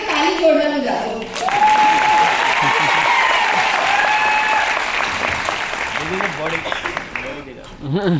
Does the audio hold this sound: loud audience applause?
yes